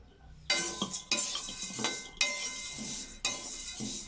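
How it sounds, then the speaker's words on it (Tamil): Black urad dal roasting dry in a pan, stirred with a metal spoon: four scraping, rattling sweeps of grains against the pan, close and fairly quiet, with brief pauses between them and no talk. "உளுந்து இந்த மாதிரி கிண்டிகிட்டே இருக்கணும்"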